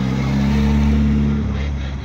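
A Ford Escort RS Cosworth at a car meet gives off a loud, close engine drone with a steady low hum that eases slightly near the end of the short burst.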